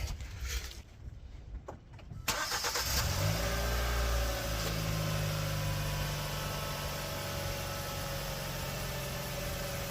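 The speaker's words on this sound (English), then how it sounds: "I'm gonna start the car" A 2013 to 2018 Hyundai Santa Fe starts up after a few seconds of clinking shop noise. Its engine then settles into a steady, close idle that hums on alone.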